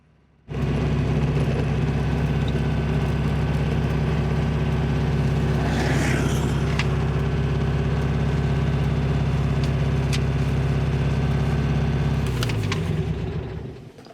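An old, worn Porsche 356 engine runs steadily and loudly at a constant, even pitch with a deep, low hum, then dies away near the end.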